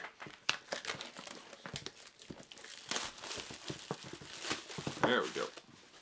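Plastic packaging on a Hasbro Yo-kai Watch Robonyan collector's box crinkles and rustles up close as it is unwrapped, with dense bursts of crackling throughout and a brief sharper rip near the end.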